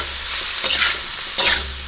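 Leftover mooncakes stir-fried with screw peppers in a pan, sizzling steadily while a spatula scrapes and tosses twice in quick bursts.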